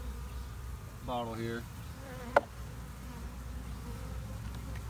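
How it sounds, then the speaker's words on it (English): Honey bees drum and hum as a beekeeper does a mite check, a continuous close buzz with a rising whine from a single bee near the start, a brief sharp click partway through, and a few spoken words. "those are the nurse bees because they're not going to fly out"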